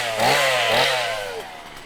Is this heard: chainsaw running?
yes